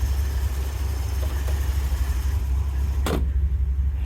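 A 1963 Corvette split window coupe with its original 327 engine drives along, a steady low engine rumble heard from inside the car, with a brief swish partway through.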